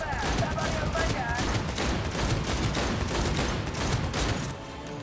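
Pistol gunfire in the video game Cyberpunk 2077, a dense, loud barrage of rapid shots and impacts filling five seconds before easing off at the end.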